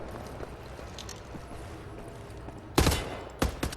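Gunfire in Wolfenstein: The New Order: quiet game ambience gives way to a loud, close burst of shots, then a short pause and two more sharp cracks near the end, with no voices.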